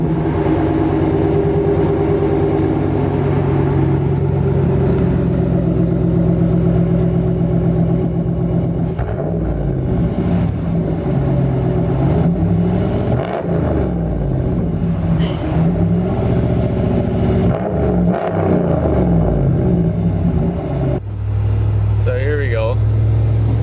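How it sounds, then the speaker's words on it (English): RAM 1500 pickup with a 5.7L Hemi V8 rumbling loudly and steadily nearby, with a few swelling revs partway through and a drop to a lower idle near the end; a person talks over it. "So you can't go wrong with a great sounding V8 with plenty of power."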